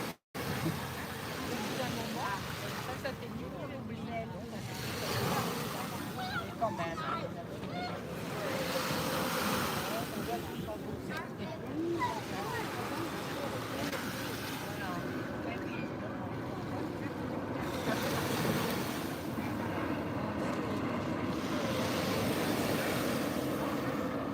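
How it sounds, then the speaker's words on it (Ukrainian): Sea waves wash in and recede in slow repeating surges, with wind buffeting the microphone and faint voices in the background. "Такий чудовий звук моря."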